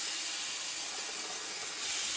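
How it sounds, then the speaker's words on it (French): Scallops searing in a frying pan with onion, giving a steady, close hiss of sizzling that holds evenly throughout with no voices. "je poêle légèrement les noix de Saint-Jacques pour les dorer un peu"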